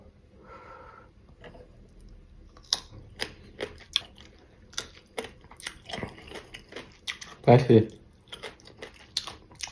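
Sour mango dipped in a sauce of sugar, fish sauce and shrimp paste is bitten and chewed close up, giving scattered crisp crunches and soft chewing clicks with a louder burst near the end, under brief quiet talk.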